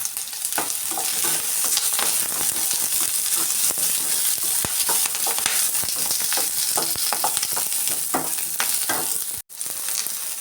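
Curry leaves fry in hot oil in a pan, giving a loud, continuous crackling sizzle with dense pops and occasional stirring scrapes, briefly cut off near the end, no talking.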